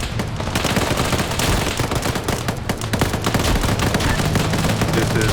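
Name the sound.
gunfire during a military operation video game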